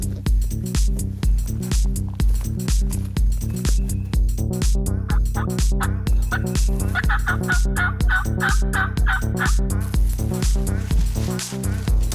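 Repeated gobbles from a distant wild Eastern turkey echo from far off, a steady rolling series of calls over a constant low background hum.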